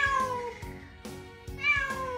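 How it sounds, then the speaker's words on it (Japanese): A newly adopted kitten meows insistently in a repeated series of four or five close, clear, rising-and-falling cries, with no talking. "誰か猫語を解説してください。"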